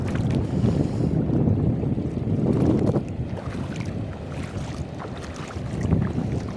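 Strong wind buffets the microphone continuously while out on a small boat at sea during a crab catch, a loud steady rushing roar with gusts swelling and easing.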